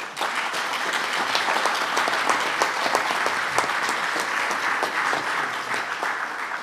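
Dense, sustained audience applause fills the hall at a Ukrainian government meeting, many hands clapping evenly and loudly throughout with no break.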